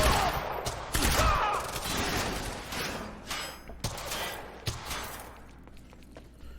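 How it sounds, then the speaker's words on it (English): Sustained suppressing gunfire in the video game Quantum Break, a dense barrage of rapid shots with sharp cracks and thumps standing out over continuous battle noise, loud and close. "Suppressing fire!"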